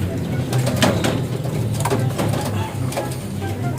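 A captured pigeon is handled up close, giving soft low coos amid rustling and handling noises, with someone talking over it.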